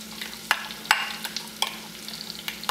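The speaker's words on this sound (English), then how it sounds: "So now we're gonna sweat the shallots with the garlic, you know, until they soft." Shallots and garlic sweating in butter in a pan, a soft steady sizzle broken by several sharp clicks and taps of a stirring utensil.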